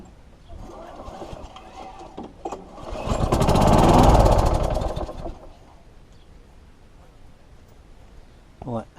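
A John Deere R43 mower engine, clamped up for a test, catches and roars briefly, swelling loudly for a few seconds before dying away, with quieter handling noises before and after.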